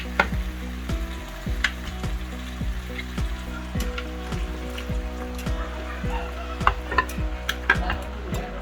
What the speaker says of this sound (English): Time to add the meat in now.